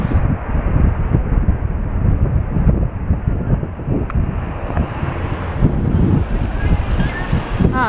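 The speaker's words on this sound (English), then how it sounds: "It's not as windy as it was." Strong wind blowing by the sea in a coastal town, roaring steadily with buffeting gusts against the microphone and surf noise beneath, loud and continuous.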